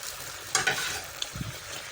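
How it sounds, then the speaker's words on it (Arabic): Sautéed chicken liver and gizzards with caramelized onions are stirred in a hot pan, giving a soft sizzle with a few brief scraping strokes and a low clunk of the spoon. "طبعا انا هضيف عليها بقى الكبده اللي انا شوحتها الاول، واقلبهم على بعض"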